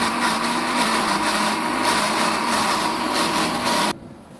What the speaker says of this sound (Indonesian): Selanjutnya kita giling bumbu untuk kuah sotonya.